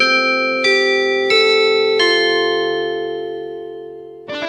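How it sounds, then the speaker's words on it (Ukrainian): A school bell chime rings out in a short melodic sequence of four ringing tones that sustain and fade, followed by a new strike at the end. "І ось лунає перший дзвоник."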